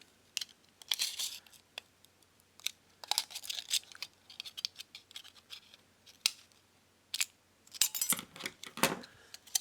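Scissors cutting into a folded piece of an old aluminium drink can, a run of crisp snips and crinkly metallic scrapes, close and clear with pauses between cuts.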